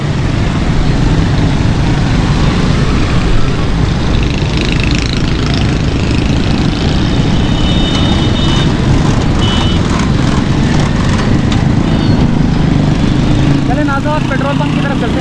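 Steady, loud roar of motorcycle traffic in Karachi during light rain, several engines buzzing close by, a constant drone of bikes passing, with a voice talking over it.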